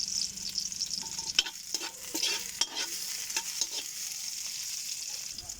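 Garlic, onion and ginger sizzle in a hot pan while a utensil scrapes and stirs them, with irregular clinks and scrapes over a steady soft frying hiss, close and fairly quiet.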